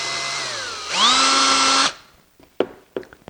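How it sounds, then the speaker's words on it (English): Power drill boring a hole through a plastic LED tail light for a Powerwheels C7 Corvette: a whine that rises in pitch and runs about a second, then stops, followed by a couple of light clicks. "we're just going to drill our holes like a 1/2 inch in from the end in the center"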